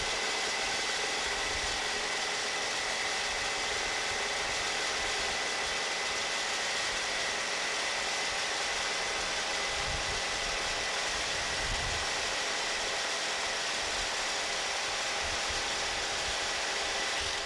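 A Milwaukee M18 Super Sawzall reciprocating saw cuts with orbital action on, giving a continuous rough, buzzing roar that holds steady throughout without pause.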